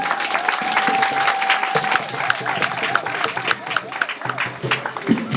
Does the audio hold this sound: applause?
yes